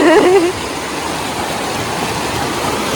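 Steady rushing water, like a fast stream, fills the clip with a broad continuous hiss; a brief whistle-like tone rises at the very start.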